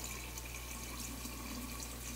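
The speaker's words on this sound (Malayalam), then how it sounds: "ഇനി ഇതിലേക്ക് നമുക്ക് വെള്ളം ചേർത്ത് കൊടുക്കണം." Cooled boiled water is poured into a homemade grape wine mix of grapes and sugar, a steady, close splashing stream that runs without a break and stays fairly soft.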